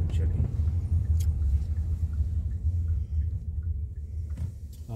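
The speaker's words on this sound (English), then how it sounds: "Oh, the bus is coming down." Heavy bus rumbling along a snowy street on a winter evening, a low steady engine drone running throughout, with people chatting over it.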